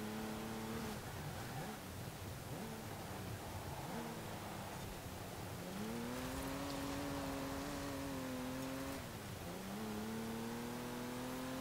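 A car engine in the video game Forza Horizon 4 revs and drones steadily during a race, pitch rising and falling as it shifts through gears, loud and continuous with a faint hiss underneath.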